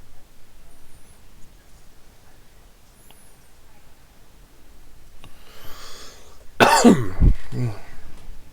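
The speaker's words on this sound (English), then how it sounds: "I start sniffling, coughing." A single loud, close cough bursts out suddenly after several seconds of near-quiet with faint rustling.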